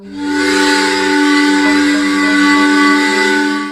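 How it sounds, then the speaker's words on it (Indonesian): A single long, loud whistle blows steadily for several seconds, its bright piercing tone held without a break. "mendengar suara sebuah peluit panjang berbunyi"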